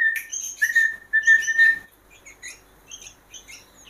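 A sooty-headed bulbul gives clear, bright whistled chirps in short bursts, then softer scattered tweets, with no other sounds around it.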